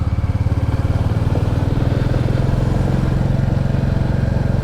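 A 1300 Mark III Ford Cortina engine runs steadily up close, a loud, even rhythmic throb with no break from start to finish and no voices over it.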